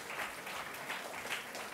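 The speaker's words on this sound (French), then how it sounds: "Je vous demande de l'applaudir pour le reconduire." A studio audience claps steadily at a French cooking event, the applause soft and somewhat distant, continuing evenly for a short stretch with no talking over it.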